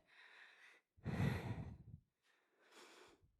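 Heavy, audible breaths close up: a long exhale, a stronger huffing breath, then another drawn-out breath, with no talking.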